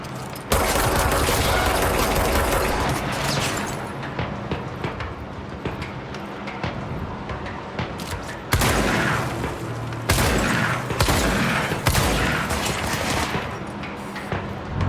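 Rockets and gunfire blast at the player in the video game Control, loud sustained bursts of explosions and shots with several sharp new blasts breaking through the din.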